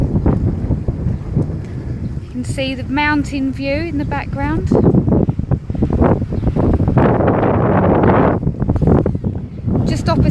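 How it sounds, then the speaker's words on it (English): Gusts of wind buffet the microphone with a rough, rumbling roar throughout, while a person talks over it beside a small harbour in Kefalonia, Greece. "It is a little windy, so I do apologise."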